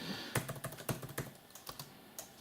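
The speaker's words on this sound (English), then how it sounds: "this keyboard is actually not that bad. It's quite pleasant actually to write." Typing on the keyboard of an Acer Aspire 3 15 laptop, a run of distinct, fairly close key clicks and taps in an uneven rhythm, with a few louder strokes standing out and no voices.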